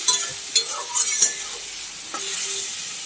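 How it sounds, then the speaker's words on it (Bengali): Chopped raw mango for chutney is stirred in a hot pan, with loud scraping stirs in several quick bursts over a steady frying sizzle. "তো এইভাবে নেড়ে চেড়ে আমটাকে একটু মানে ভেজে নেব আর কি।"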